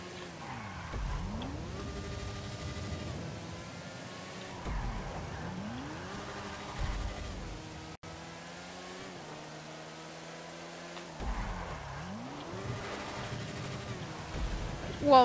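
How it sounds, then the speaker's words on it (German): Racing motorcycle engine in GTA 5 on a slippery, rainy road, revving up and down in repeated sweeping surges with skidding tire noise, loud and continuous, with occasional voice over the engine. "Oh, ein Rennmotorrad, okay."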